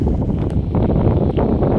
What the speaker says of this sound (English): You see how windy this is?